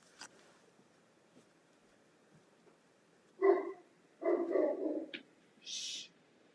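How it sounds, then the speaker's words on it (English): Dogs bark somewhere in the distance, a few muffled bursts spaced apart against near silence, with one higher yelp near the end. "is this the dogs?"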